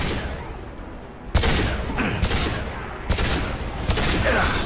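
Gunfire in Mass Effect 2 during a fight with Krogan: a sharp loud report, then sustained rattling bursts of automatic fire with brief pauses, close and dense.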